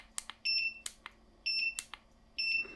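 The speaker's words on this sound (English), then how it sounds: "When it does, it will beep." An older Elinchrom studio flash beeps as it finishes recharging, three sharp electronic beeps at roughly one-second intervals, each mixed with small clicks, close and clear with no talk.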